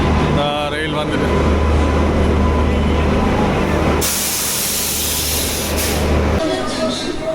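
A passenger train pulls into a station in Tirunelveli, India, with continuous hissing, rumbling and brake noise throughout. A loud burst of spray-like hiss comes partway through, and a busy platform crowd can be heard around it.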